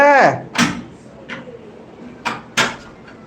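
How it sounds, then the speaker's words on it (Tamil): A beagle works a household door open, giving several short knocks and thuds spaced across a few seconds, near and fairly loud, with a person talking at the start. "கதவை தர டோரை ஓப்பன் பண்ணு"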